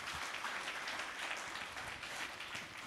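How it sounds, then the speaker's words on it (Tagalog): A church congregation bursts into sustained applause during a Sunday gospel service, with dense clapping filling the room and no speech over it. "Palakpak natin ang Panginoon."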